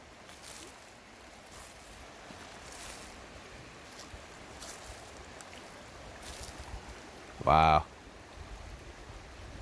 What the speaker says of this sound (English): Here we are, Deer Creek.